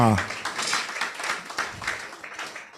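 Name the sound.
audience clapping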